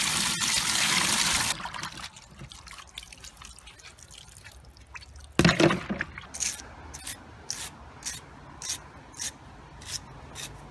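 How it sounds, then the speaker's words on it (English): Vacuum cleaner filter from a Eureka Quick Up stick vac being rinsed and rubbed under water, with a loud rushing splash at first, then quieter scrubbing, a sudden burst of water and a run of regular close drips and splashes. "I'm going to wash the filter"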